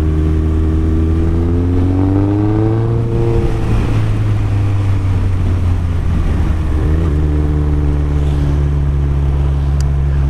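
A Honda CB1100 motorcycle being ridden, its engine a steady loud drone that dips briefly as the rider shifts and then pulls again through a rise in revs, with wind rumble throughout and no talk.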